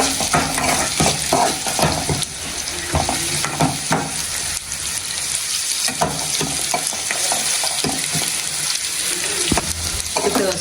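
Onions frying in oil in a pan while cooking bassaru with soppina palya, a steady loud sizzle broken by stirring scrapes and utensil clinks, close and continuous with no voices.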